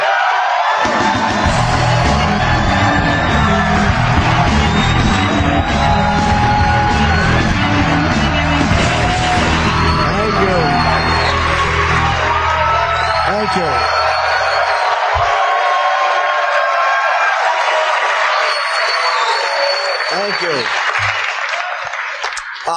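Comedy club audience at a stand-up show erupts in loud, sustained applause, cheering and whoops as a comic is introduced, with the crowd noise filling the room for about fifteen seconds before fading under the comic's talk.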